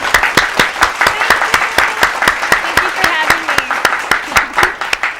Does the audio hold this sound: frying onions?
no